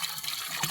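Water from a forest source pours strongly into a container, producing a steady, close, full rushing splash that continues without a break.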